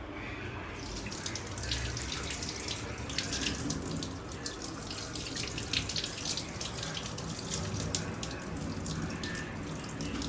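A kitchen tap runs steadily into a sink for the whole stretch, a constant splashing hiss with no talking.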